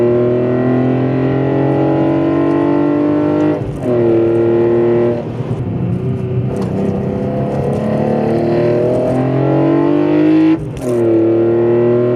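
A loud, sustained inline-six engine of a BMW E46 M3 with velocity stacks drones steadily close by, its pitch rising and falling as it revs, with two brief dips like gear changes.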